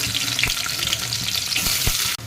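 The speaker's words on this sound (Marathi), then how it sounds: "त्यात आपण तेजपत्ता आणि थोडासा कांदा भाजून घेऊ" Steady, loud sizzling of onion and bay leaf frying in hot oil, a dense crackle throughout with a few sharper pops and a brief break near the end.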